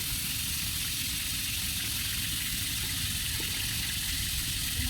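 Fish frying in hot oil with panch phoron in a wok over a village clay stove, giving a steady, even sizzling hiss throughout at a constant moderate level, with no voices.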